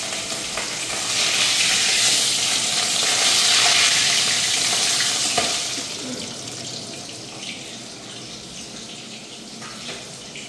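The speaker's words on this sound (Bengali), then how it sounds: "এখন আমি মাছগুলো ভেজে দিচ্ছি" Fish seasoned with salt and turmeric fries in hot oil, a loud broad sizzle that swells in the first half, then settles to a softer steady hiss.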